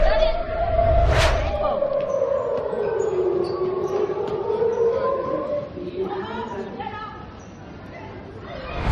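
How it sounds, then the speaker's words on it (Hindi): An air raid siren wails around Ben Gurion Airport in Israel, a long rising and falling tone that sustains loudly across the whole stretch, with a burst of noise near the start and crowd chatter mixed underneath. "वहां से लेकर आसपास के इलाकों में सायरन बजने लगा"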